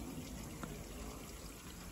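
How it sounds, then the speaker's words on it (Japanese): Sacred spring water trickling from the shrine rock at Hakkaisan Shrine on Mount Ontake, a faint continuous splashing and running water close by, with no other sounds standing out. "神蔵の岩を滴り御神水ということでね"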